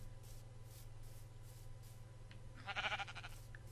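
A single short sheep bleat from Minecraft rises near the end, faint over a steady low hum, with no talking.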